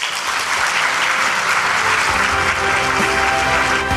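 Dense, sustained clapping rises from a large audience after a Hyundai Motor Group presentation on a Saemangeum AI, hydrogen and robotics investment, filling the room evenly and loudly throughout.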